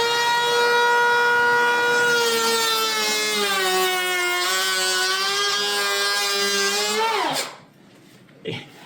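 A DeWalt 20V cordless planer whines at a steady high pitch for about seven seconds, loud and close, then spins down quickly and falls silent.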